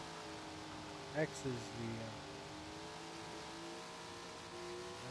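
Sprint car engines roar in a steady drone in Tony Stewart's Sprint Car Racing video game, while someone talks briefly over the racing sound early on.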